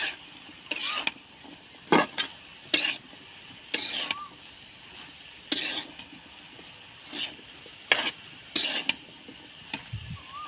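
Potatoes and banana stem being stirred in a pan, with a metal spoon clanking and scraping against it in a steady rhythm of sharp knocks, close up and at moderate loudness, with no talking.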